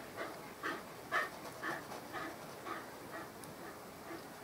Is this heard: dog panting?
yes